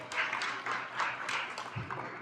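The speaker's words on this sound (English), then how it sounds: "Let's give them a round of applause for having" An audience at a school stock show claps for heifers, a steady patter of scattered applause that holds for a couple of seconds, fairly faint and spread out in a large hall.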